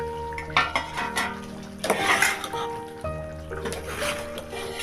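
Chicken curry ladled from a cooking pot into a bowl, with repeated clinks and scrapes of a utensil against metal and a few wet, sloppy pours, close up with a steady background hum.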